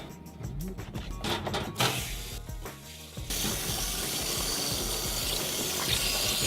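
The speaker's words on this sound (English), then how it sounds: "This rinser has a flexible tube to get up into the tank and flush out any sediment that might be left over." Water rushing through an RV water heater tank as a Camco tank rinser with a flexible tube flushes out sediment, a steady loud spraying gush that swells and continues throughout.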